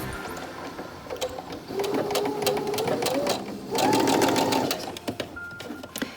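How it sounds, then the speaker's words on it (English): Sewing machine stitching a 3/8 inch seam on a fabric face mask, short bursts of rapid mechanical whirring with pauses between, up close, and a voice speaking briefly in between. "And then another 3/8 inch seam gets sewn"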